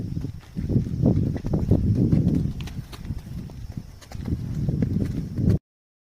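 Cows of a high-yield breed are led out of a farm and loaded onto a vehicle, their hooves clopping irregularly on a hard surface close by, with faint rustling in the background.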